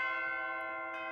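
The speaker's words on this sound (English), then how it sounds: "These are some nice sounding bells." Church bells with a medieval character, recorded as a close sustained peal of bright overlapping tones that ring steadily, with no voices.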